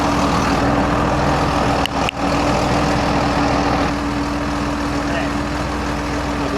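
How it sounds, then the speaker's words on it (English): Low, steady rumble of a tractor engine idling close by, with a brief double thump partway through, then the drone continues. "see if we can't get some tractor sound and match that up to the drone video"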